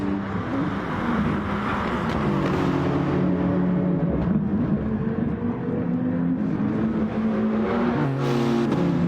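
Several racing car engines in a sim racing game championship round drone steadily and loudly throughout, with shifting pitch as cars accelerate and battle for position.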